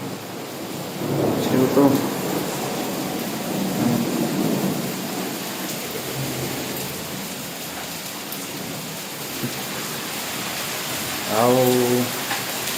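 Rain pours steadily outside a building while thunder rumbles in long low rolls, with a few brief words spoken nearby and a short voice-like call near the end.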